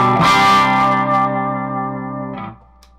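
A Moniker Dixie electric guitar with maple neck, alder body and Bigsby, played in humbucker mode, rings out a single loud strummed chord with effects, sustaining and fading before a brief second strum near the end.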